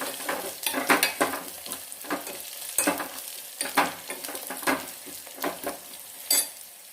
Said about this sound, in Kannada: ನಂತರ ಒಂದೆರಡು ಒಣಮೆಣಸಿನ್ಕಾಯಿ ಕೂಡ ಹಾಕ್ಕೊಳ್ಳೋಣ. ಸ್ವಲ್ಪ ಇದು ಫ್ರೈ ಆಗಲಿ